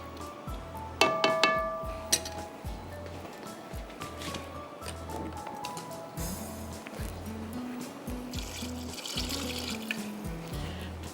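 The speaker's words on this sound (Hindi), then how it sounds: "तो मैं थोड़ा सा पानी डाल दूँगी।" Water poured into a cooking pot of rice and stock on a cooking show, a steady splashing pour that runs under background noise, with a short clatter of utensils near the start and rhythmic low thumping throughout.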